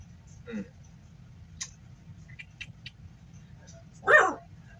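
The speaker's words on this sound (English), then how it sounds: "I'm really sorry about the dog barking." A dog barks twice, once briefly and then more loudly a few seconds later, with quiet room noise and small clicks in between.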